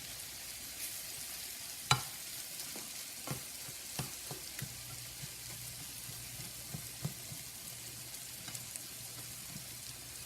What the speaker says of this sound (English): going to give it some time to fry very well. See the way I keep mixing it?